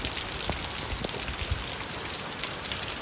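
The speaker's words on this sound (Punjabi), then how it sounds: "ਦੇਖੋ ਕਿੰਨਾ ਤੇਜ਼ ਮੀਂਹ ਪੈ ਰਿਹਾ" Heavy monsoon rain pours down steadily over rice paddy fields in a dense, unbroken hiss, with occasional louder drops spattering nearby.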